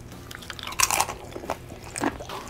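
Someone bites into a chip loaded with buffalo wing dip, a Super Bowl snack, and chews it up close. The wet, crunchy bites come in a few uneven bursts over a quiet background, with no talking.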